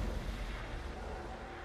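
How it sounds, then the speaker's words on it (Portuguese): Cannon fire in the battle game Total War: Warhammer 2 during a siege, a dense, continuous low rumble of booming artillery, steady and loud throughout with no voices. "Meu canhão tá doido aqui, velho."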